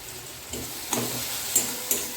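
Potatoes frying in a pan with chili powder and turmeric, giving a steady low sizzle with a few soft stirring scrapes spaced across the short stretch.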